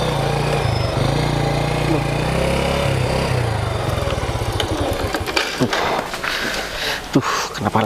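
An old motorcycle engine idles with a low steady thrum, then begins sputtering in uneven bursts before cutting out into scattered clatter and stalling noises, close by.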